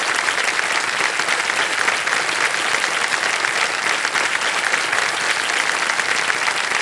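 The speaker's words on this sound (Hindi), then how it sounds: "तालियां बज जाए इनके लिए।" Studio audience applause on the KBC Season 16 game show, greeting a contestant who has just won a ₹3,20,000 cheque. The clapping is dense, loud and steady, filling the whole stretch without a break and with no talk over it.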